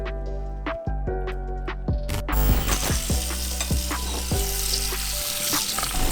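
Sweet potatoes, grilled chicken and scrambled eggs sizzle and fry steadily in a pan, with repeated sharp clinks and scrapes of a utensil stirring throughout.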